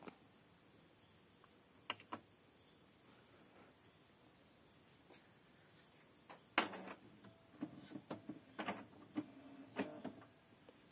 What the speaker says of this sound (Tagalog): And turn on the printer.